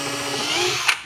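A power drill pre-drills a hole in a wooden drawer front, whirring steadily for about a second close by before a short bite and stop.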